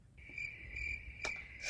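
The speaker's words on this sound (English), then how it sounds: "Crickets!" Crickets chirp as a comedic sound effect, a steady high-pitched trill running almost unbroken and fairly loud over a low background rumble, with no voices.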